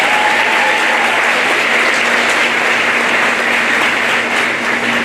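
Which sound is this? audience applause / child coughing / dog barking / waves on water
audience applause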